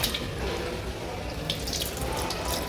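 Water runs from an automatic tap in a steady, close hiss and patter, with a few faint clinks and no clear speech over it.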